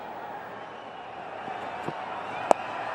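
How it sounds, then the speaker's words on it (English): A big crowd at a Bangalore cricket stadium during a one-day international keeps up a steady, distant murmur throughout, broken only by a couple of brief faint knocks. "But we have a big crowd here today."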